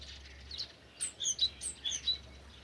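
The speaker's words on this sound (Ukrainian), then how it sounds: "Мовчу, бо саме такий пташиний концерт." Small birds chirp and trill in short, bright bursts, several voices overlapping in a quiet sunrise chorus over a faint low hum.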